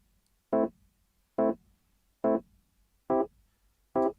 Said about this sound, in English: a Rhodes Scarby Mark 1.